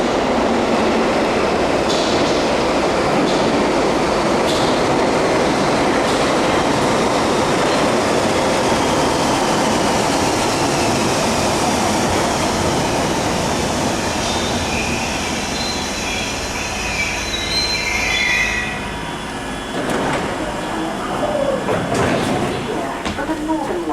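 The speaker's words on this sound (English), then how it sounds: "we're now on the Bakerloo line platforms, awaiting our train to Marylebone." A London Underground Bakerloo line train at the Charing Cross platform rumbles loudly through the station, with wheels squealing and a rising metallic whine toward the end, plus faint background voices.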